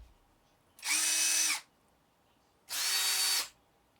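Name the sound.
brushed cordless drill running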